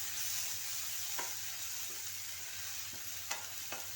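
Tomato masala for egg roast being stirred in a pan, with a steady soft sizzle throughout and a few brief scraping clicks from the spoon.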